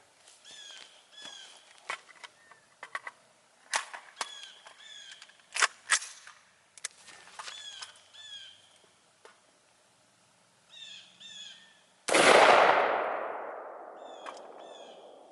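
A single loud .223 rifle shot from an AR fired at a bowling ball cracks out near the end and rings off in a long decaying tail. Earlier come scattered bird chirps and small clicks.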